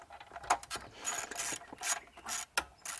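A ratchet wrench undoes an 8 mm fastener during a Lexus/Toyota multi-function display repair, giving close, sharp clicking bursts in irregular runs with brief pauses between strokes.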